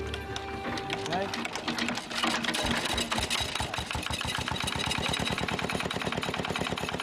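A 1950s diesel forklift engine starts up and settles into a loud, steady knocking run, its rapid regular firing beats dominating the whole stretch at close range.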